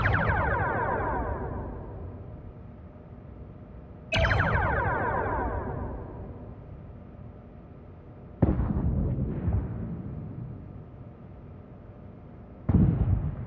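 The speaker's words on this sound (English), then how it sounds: "Target the nearby ship and fire torpedoes at it." Photon torpedoes fired at a nearby ship in the Star Trek Bridge Crew game, four sharp booming launches spaced several seconds apart, each followed by a long rumbling decay.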